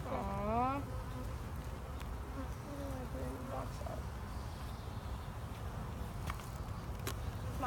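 Bees buzz around an open beehive, a dense steady drone close by with individual insects whining past, faint movement and footsteps underneath, and a person's voice breaking in briefly.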